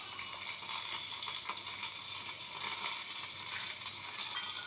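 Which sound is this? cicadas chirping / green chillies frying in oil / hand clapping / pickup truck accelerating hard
green chillies frying in oil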